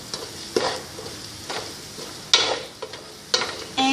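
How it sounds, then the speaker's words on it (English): Onion sizzles in a pan with kabsa masala while being stirred, a soft frying hiss punctuated by several sharp scraping stirs and clinks at irregular intervals. "I've just fried this onion for 2 minutes after adding the kabsa masala."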